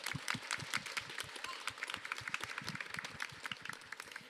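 An audience at a panel event claps in a dense patter of individual hand claps that stays fairly close and tapers slightly toward the end.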